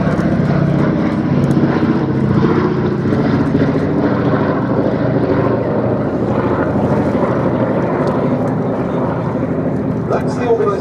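Sally B making a flypast with smoke trailing to simulate a damaged engine at the Duxford Air Festival 2019, its propeller engines droning loudly and steadily while a commentator talks over the top.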